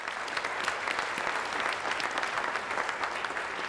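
An audience applauds steadily at a public conversation event, a dense even patter of many hands clapping throughout, with no voices heard.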